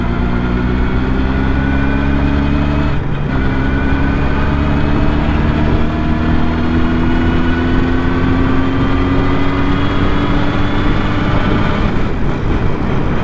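A Jawa 350 638 motorcycle engine drones loud and close while riding, its revs rising steadily, dropping with a gear change, then climbing again; no voices.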